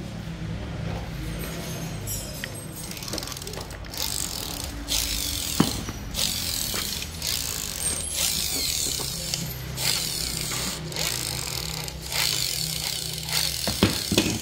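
A Makita power tool with a hammer function and no reverse runs steadily with its fan blades spinning, giving a continuous whirring motor noise with small mechanical clicks, at moderate volume close by.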